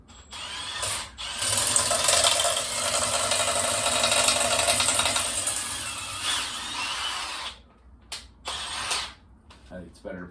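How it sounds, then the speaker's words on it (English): A drill is chucked onto the end of a fir arrow shaft and spins it with a loud, whirring mechanical grind for several seconds, then stops and gives a few short bursts. "So you just chuck the drill on the other end."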